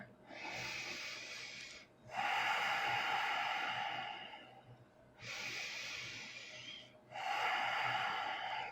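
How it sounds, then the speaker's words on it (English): Slow, deep breathing during a gentle bedtime yin yoga stretch: close, airy inhales and exhales alternating in long drawn-out breaths, about four over several seconds, with no talking. "Breathing here."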